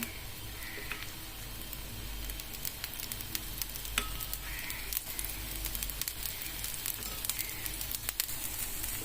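Oil sizzles steadily beneath a thin hotel-style dosa cooking on a hot pan, a continuous close crackling hiss with small sharp pops scattered throughout.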